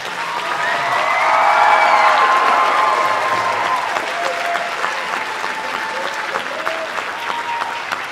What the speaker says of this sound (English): how about a one more round of applause for all of our soloists?